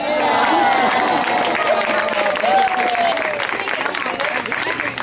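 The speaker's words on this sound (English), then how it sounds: "Yeah, let's give him a big hand." Audience applause for a trained pet bird that has just taken a bow, a steady wash of clapping and light cheering lasting throughout, with a whistled tone sliding across part of it.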